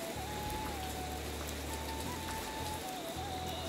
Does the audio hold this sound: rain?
yes